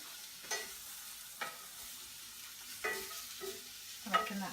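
Meat searing in a single pot for goulash with seasoning and a little spray oil, a soft steady sizzle broken by several sharp scraping stirs and clatters against the pot.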